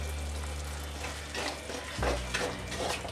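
Kottayam-style fish curry masala with chili powder and salt fries in a pan, a steady close sizzle broken by scraping stirring strokes.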